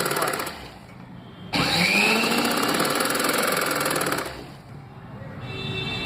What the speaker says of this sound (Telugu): ఇప్పుడు ఇక్కడ నుండి ఇక్కడ వరకు మనం స్టిచ్చింగ్ చేద్దాం